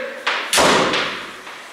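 A house door swings shut over a resistance band anchor during a home back-strengthening workout, giving two dull thuds in quick succession, the second louder, with a short fading rattle after.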